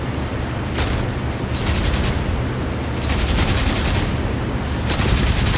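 Machine guns of a Spitfire Mk. IXc in the IL-2 Sturmovik flight game rattle out in several loud, rapid bursts, separated by short gaps over a steady engine drone.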